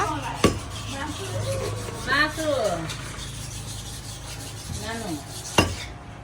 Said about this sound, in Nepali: मासु फुलपातीको लागि दाइले यहाँ काट्दै हुनुहुन्छ